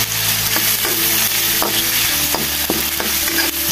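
Sago palm grubs fry in a pan, sizzling loudly and steadily up close while a utensil stirs and scrapes them with occasional clicks.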